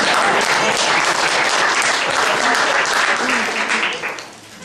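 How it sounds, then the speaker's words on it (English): Loud, dense applause from an iCaucus audience in San Diego after Assemblyman Tim Donnelly's speech, sustained clapping that holds steady for several seconds then tapers off near the end. "you owe yourselves a round of applause for that"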